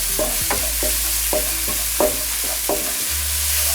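Garlic stir-fries in a hot wok for kung pao chow mein, with a steady sizzle broken by a regular series of sharp scraping strokes of a spatula, about one every half second, close and loud.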